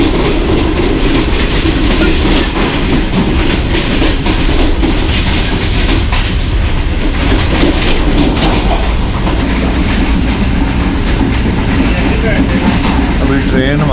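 Passenger train running at about 70 km/h, heard from inside an air-conditioned parlour car near Gakhar Mandi, with continuous loud rumbling and rhythmic clickety-clack of wheels over the rails, and a voice speaking over it.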